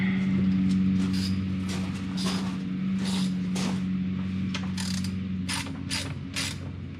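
A nut on campsite equipment is tightened with a ratcheting wrench, giving repeated close mechanical clicks and clatters over a steady low engine-like hum.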